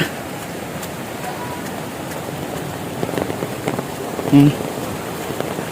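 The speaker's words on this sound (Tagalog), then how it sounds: "Hala, kusog-kusog ang baha, oh." Strong floodwater rushes in a steady broadband roar, loud and continuous throughout, with a brief louder splash or knock near the end and a voice faintly audible at moments.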